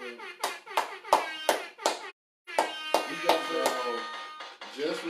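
Hands clap in a quick irregular burst of about a dozen sharp claps, with a short pause midway, over voices talking during a hip hop podcast recording.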